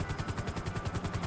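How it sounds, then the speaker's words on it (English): Helicopter in Grand Theft Auto V, its rotor thumping in a steady, fast, regular pulse, moderately loud and close, with no voices over it. "It provides me a helicopter for free"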